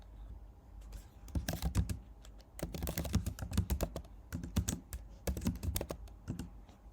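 Close, brisk typing on a computer keyboard while entering Swift code in Xcode, irregular bursts of key clicks separated by short pauses, with no speech.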